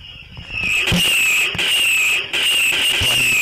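Electronic blaster effects from a toy walker's front cannons fire in rapid bursts, shrill whistling tones with crackling pops, three or four shots in quick succession, close by.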